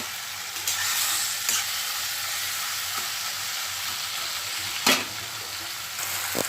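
Tomatoes and coriander sautéing in a kadai for a spicy tomato chutney, a steady close sizzle and hiss throughout with a few scrapes of stirring and one louder clatter, no voices.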